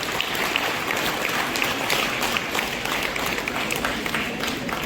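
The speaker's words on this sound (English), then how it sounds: "Please give them a big round of applause." Audience applause at a national homoeopathic conference in Bagalkot, a steady wash of many hands clapping throughout, dense and even with no pauses, with faint voices mixed in beneath.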